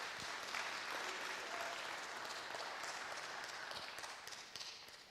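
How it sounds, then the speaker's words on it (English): Quiet applause from an indoor audience honoring a building cleaner, a steady patter of clapping that holds for about five seconds and fades slightly at the close. "Give her a round of applause, because she never gets..."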